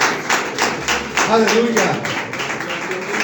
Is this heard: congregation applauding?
yes